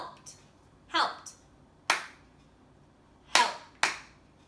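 Hands clap out the syllables of words in a home lesson, giving five or six sharp, separate claps with short pauses between them and no voices over them.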